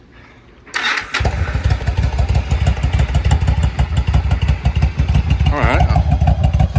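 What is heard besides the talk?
Yamaha V-Star 1100 with Cobra slip-on mufflers starting, idling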